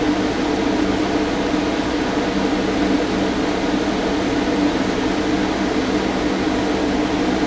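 A Fantastic Fan roof vent fan runs in a DIY travel trailer with a steady, even whooshing drone of moving air and motor hum, close and constant throughout without any talking.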